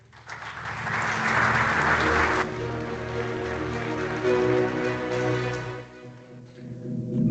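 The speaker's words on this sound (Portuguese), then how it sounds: "Peço-vos um aplauso, por favor, para Ana Paula Marcos" An audience applauding at a corporate safety conference, a dense wash of clapping that swells in the first seconds, holds steady, then thins out toward the end.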